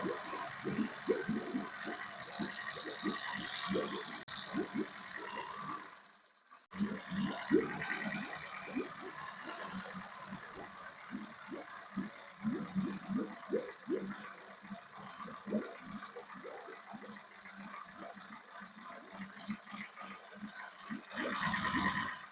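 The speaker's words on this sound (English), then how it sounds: "So, the RPMs are pretty low on this motor right now." A Yamaha F9.9 outboard motor idles at low RPM, running a little rough, with a steady irregular chugging and sputtering. It is heard up close and continuously, with one brief dip in level partway through.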